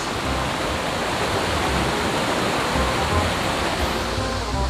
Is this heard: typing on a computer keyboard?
no